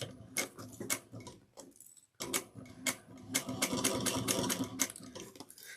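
A sewing machine stitches through a foam sling pack strap in quick rhythmic bursts of needle ticking, stopping briefly and starting again, close and clear with no voices.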